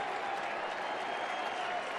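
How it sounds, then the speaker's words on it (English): A big baseball crowd at a ballpark cheers and claps in a dense, continuous roar, steady and loud at a distance, with no single voice standing out. "the crowd's starting to get behind them now"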